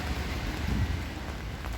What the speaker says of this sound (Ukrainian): Погода осіння класична осінь, дощик.